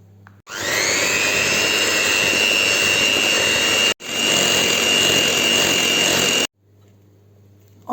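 A small electric hand mixer beats orange cheesecake batter made with all-purpose flour, a loud steady whirring drone close up that cuts out briefly once, restarts, then stops before faint room noise.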